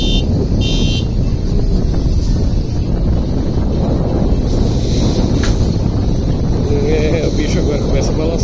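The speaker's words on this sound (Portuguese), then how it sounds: "Chuva e vento, olha aí que coisa linda" Rain and wind on a ferry crossing between Camará and Icoaraci make a dense, loud, steady rushing noise, with wind buffeting the microphone and a person talking over it.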